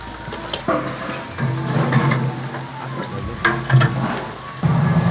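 Garlic fries in oil as the base for a sea fish curry, a moderate sizzle with irregular stirring scrapes and clatters throughout the short stretch.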